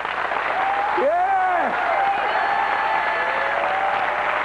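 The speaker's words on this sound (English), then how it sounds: "You guys are really good at clapping." Church congregation at a 1995 camp meeting applauding steadily, a broad continuous wash of clapping with voices calling out over it.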